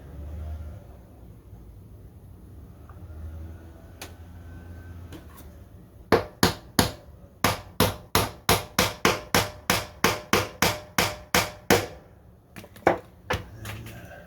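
Steel hammer striking rivets into the handle of a handmade Damascus steel knife: after soft handling noises, a rapid run of about twenty sharp, loud metallic taps in steady rhythm, close by, then a few scattered final blows.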